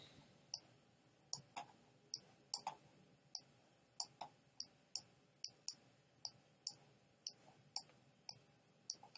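Computer mouse clicking while drawing with a freehand brush in Adobe Illustrator: a steady series of crisp, close clicks, roughly two per second, in an otherwise quiet room.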